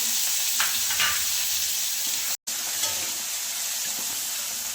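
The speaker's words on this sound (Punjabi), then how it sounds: "ਇਹ ਪਿਆਜ਼ ਨੂੰ ਵੀ ਆਪਾਂ ਚੰਗੀ ਤਰ੍ਹਾਂ ਤੇਲ ਦੇ ਵਿੱਚ ਭੁੰਨ ਲਵਾਂਗੇ" Onions fry in hot oil with cumin for a lauki (bottle gourd) sabzi, giving a steady close sizzling hiss with a few brief stirring spikes and one very short dropout.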